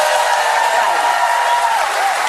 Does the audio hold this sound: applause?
yes